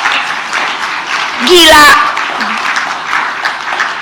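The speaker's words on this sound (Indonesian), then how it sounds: "Tepuk tangan." An audience at a political speech by a politician in Indonesia bursts into loud applause and cheering for about half a second in the middle, with talk before and after.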